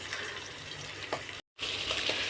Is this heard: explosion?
no